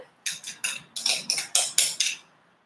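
Chocolate ganache is stirred into American buttercream in a bowl, producing about nine quick, evenly spaced scraping and clinking strokes of a utensil against the bowl, close and fairly loud, with no speech.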